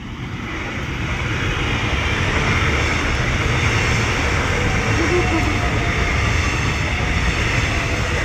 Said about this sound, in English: I just let this train go past.